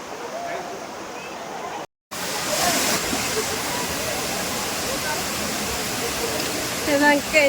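Dudhsagar waterfall in Goa roars as a loud, steady broadband rush of falling water heard up close, briefly cut off once near the start and otherwise continuous.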